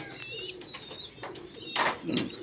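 Fancy pigeons in a loft coo in low bursts close by, with a couple of louder flutters or scuffles breaking in near the end.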